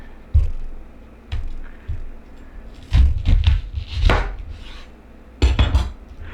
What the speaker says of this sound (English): But first I'm going to chop up the onion.